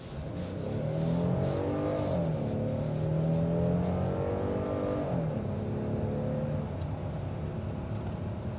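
A 3.8-liter naturally aspirated V6 engine in a Hyundai Palisade SUV revs up and accelerates steadily, its drone rising in pitch then dropping and climbing again, loud and close with no talking.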